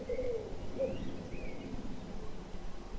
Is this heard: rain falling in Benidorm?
no